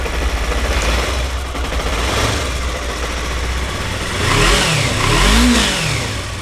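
A motorcycle engine, warming up after carburetor cleaner entered it, runs loud and close, idling steadily before being revved up a couple of times near the end.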